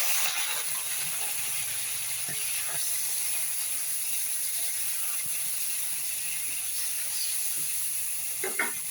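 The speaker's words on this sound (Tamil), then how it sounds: "அதெல்லாம் லேசாக வறுத்தாச்சு" Prawn pieces fry lightly in oil with a loud, dense, continuous hiss of sizzling, steady throughout with faint crackles and a small clink at the very end.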